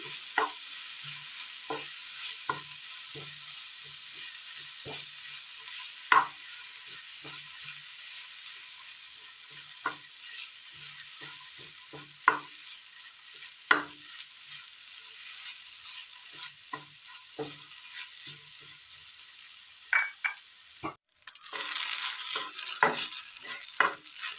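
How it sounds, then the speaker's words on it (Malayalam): Chopped raw banana stirred in a pan, a soft sizzle beneath a series of sharp, irregular spoon scrapes and taps spread over the whole stretch, with a louder clatter near the end. "ചോപ്പ് ചെയ്ത് വെച്ചിരിക്കുന്ന വാഴയ്ക്ക് കൂടി ചേർത്ത് കൊടുക്കാം നന്നായി ഒന്ന് മിക്സ് ചെയ്തെടുക്കാം"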